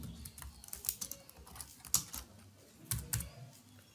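Quiet typing on a computer keyboard while a description is entered for an online account, irregular clusters of soft clicks with brief pauses, close and alone.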